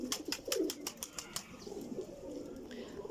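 Nearby pigeons coo softly in low repeated burbling calls, alongside brief clicks and a faint flutter, fairly quiet overall.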